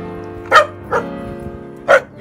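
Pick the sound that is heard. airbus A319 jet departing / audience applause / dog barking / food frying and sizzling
dog barking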